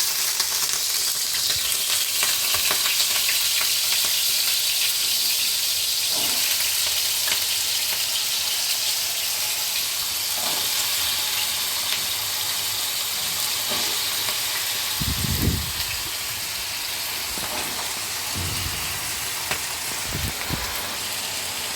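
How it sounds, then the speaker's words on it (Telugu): Potatoes crackle and sizzle steadily in a hot pan, with a few louder thumps of stirring near the end. "ప్యాన్ వేడయ్యాక ఇప్పుడు పొటాటోస్ని యాడ్ చేస్తాను."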